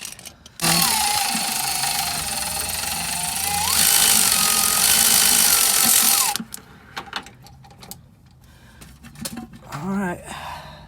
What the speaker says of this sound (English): Just have to remove the one at the top now.